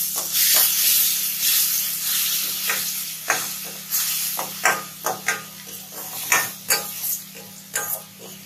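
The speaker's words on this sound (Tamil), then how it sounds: "இஞ்சி பூண்டு பேஸ்ட் ஒரு பச்சை வாசனை போகிற அளவுக்கு வதக்கலாம்" Ginger garlic paste sautéing in a pan for a Tamil egg curry, a steady soft sizzle broken by a run of sharp scraping clicks from a stirring utensil, close and with no talking.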